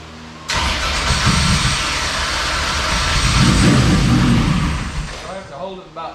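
A small engine on full choke cranks and catches at about half a second, then runs at a loud, steady, slightly uneven rev for several seconds before easing off, with voices speaking faintly over it.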